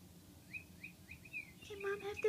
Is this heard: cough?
no